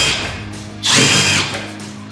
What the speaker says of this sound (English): Pre-drill the holes.